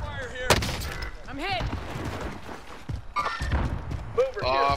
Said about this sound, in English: Well, I'm getting sniped at and left somewhere.